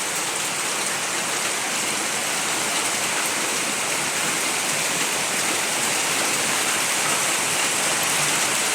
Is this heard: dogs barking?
no